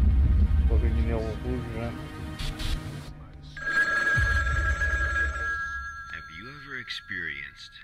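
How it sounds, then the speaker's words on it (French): Telephone in the SCP Secret Files video game ringing with a steady high electronic trill, loud over low game rumble, with someone talking before it starts and short voiced sounds near the end. "Téléphone."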